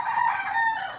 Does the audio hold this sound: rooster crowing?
yes